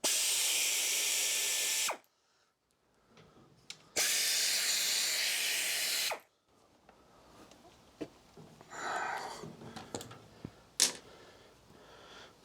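A 3/8 ratchet wrench works bolts on a John Deere-made Sabre 1438 riding mower, with two loud, steady bursts of rapid ratcheting close by, then quieter scattered clicks and handling noises.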